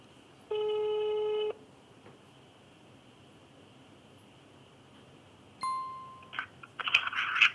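Over faint line hiss, a single one-second ringing tone of an outgoing telephone call sounds, then a long silence, a decaying beep, and crackly clicks as the call connects.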